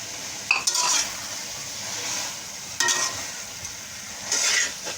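Onion whites fry in a pan for Chinese biryani, giving a steady, close sizzle with three short bursts of stirring and scraping scattered through it. There is no talk.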